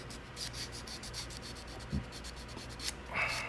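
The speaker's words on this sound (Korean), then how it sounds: "사포로 해주시면 됩니다." Quiet, rapid back-and-forth scratching of sandpaper rubbing against a saxophone neck cork, in a steady rhythm up close.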